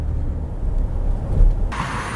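A pickup truck fitted with Roadmaster Active Suspension idles and rumbles at low speed while turning around, a steady deep engine drone heard from inside the cab, with a brief rise in rumble near the end.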